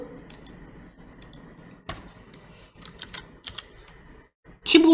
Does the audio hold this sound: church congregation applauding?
no